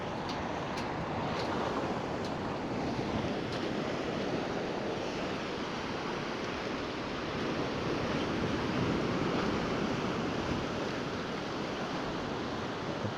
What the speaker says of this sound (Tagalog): Alon na lang yung maririnig mo.